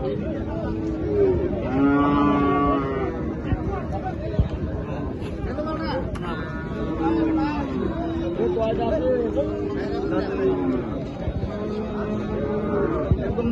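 Crowded Bangladeshi cattle market before Eid al-Adha, babble of many voices, with occasional low moos of local deshi cattle rising above the chatter nearby.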